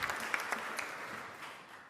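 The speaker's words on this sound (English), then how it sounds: "Can we give her a round of applause" Audience applause breaks out at a state government event with the governor and leaders discussing gun-related bills, a steady wash of clapping heard at moderate distance and fading toward the end.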